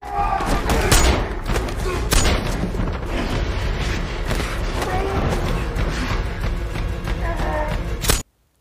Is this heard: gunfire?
yes